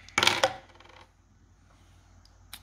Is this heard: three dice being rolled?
yes